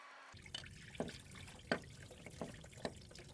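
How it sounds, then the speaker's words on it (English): Engine coolant draining from a car's cooling system into a bowl during water pump removal, heard as a quiet series of separate drips and small splashes spaced out over a few seconds. "let the coolant run out steadily into the bowl"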